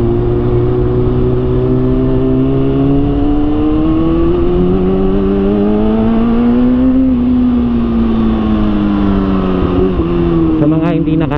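A Kawasaki ZX-6R 636cc four-cylinder motorcycle engine runs loud and close with a steady, smooth tone that rises and falls in pitch as it is revved, with no talk heard.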